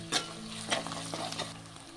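Chopped onions and green chilies fry in a pan for a tamarind stew of elephant foot yam and okra, a steady low sizzle broken by a few scraping stirs, close and fairly quiet.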